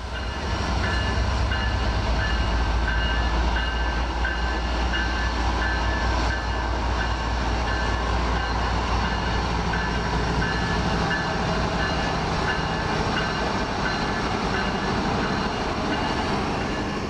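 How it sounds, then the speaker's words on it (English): An empty grain train rumbles steadily as it departs along a main line, with a loud, continuous low drone and a faint high tone, with no voices. "the empty grain train from Harrisonburg departs north on the main line"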